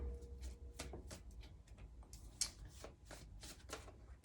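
Tarot cards being shuffled by hand in a quiet room, a run of soft riffling flicks and slaps repeating at an uneven rhythm, close and fairly faint, with no one speaking.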